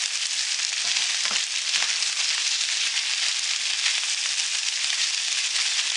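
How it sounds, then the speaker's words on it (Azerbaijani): Tomato and red pepper fry in oil in a pan, giving a steady, close hiss of sizzling with scattered pops and faint stirring, no voices. "Qızardıram yağda"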